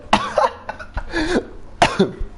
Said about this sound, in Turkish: Sen öksüremezsin piç.